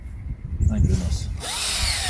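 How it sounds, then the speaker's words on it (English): A hand drill with a 5/16 inch bit bores into a hardwood log for shiitake spawn, a steady close whirring grind that settles into an even drone, with a voice briefly exclaiming over it. "5/16 inch bit in a hand drill"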